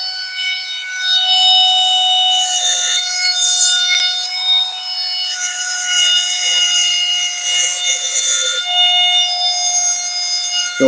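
A BESDIA pneumatic air lapper, a short-stroke reciprocating finishing tool, twisted on and ramping up to a steady, loud, high-pitched whine with a hissing edge, holding for about ten seconds before cutting off.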